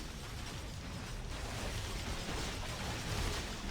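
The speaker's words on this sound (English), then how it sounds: "Explosion!" A dense, continuous explosion roar fills Marvel Heroes 2016 gameplay, a loud broadband rumble that holds steady for several seconds with no talk over it.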